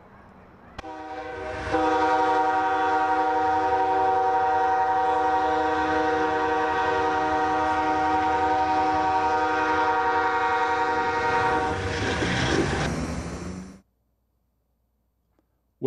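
An Amtrak passenger train passes with a long, loud, sustained horn chord, steady for about twelve seconds, with rumbling wheels beneath, then the sound cuts off abruptly.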